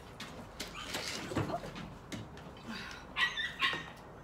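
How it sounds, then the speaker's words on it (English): Puppies whimper and yelp in the background during a dog's nail trim, giving faint, high, scattered cries that rise to a couple of sharper whines near the end. "Why are the puppies screaming in the background?"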